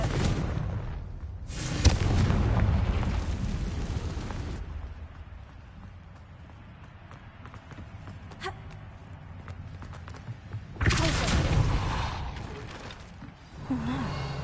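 A Confringo blasting curse explodes in Hogwarts Legacy with a loud burst near the start, fading into quieter game ambience, followed later by another strong blast.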